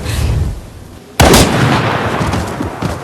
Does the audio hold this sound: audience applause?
no